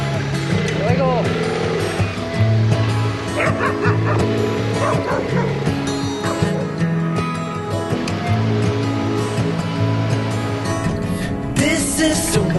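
Moxie the dog barks in loud yips and whimpers repeatedly near a road above a river, mixed with steady background rumble and water-like noise, with some voices.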